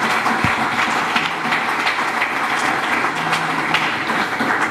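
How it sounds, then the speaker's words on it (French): Audience applause at a patriotic conference in the DRC, a steady dense wash of clapping that fills the whole stretch at an even, fairly loud level. "Applaudissez pour vous-même."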